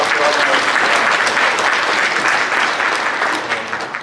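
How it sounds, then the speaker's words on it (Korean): A church congregation claps together to welcome a first-time visitor, a full, steady round of applause that holds strong before tapering slightly at the end. "우리 같이 박수로 하겠습니다."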